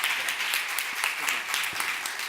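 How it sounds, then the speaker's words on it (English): Audience applause for the judges at the Brewbound Live 2018 Pitch Slam beer competition, a dense steady roar of many hands clapping with some voices mixed in. "Round of applause for our judges."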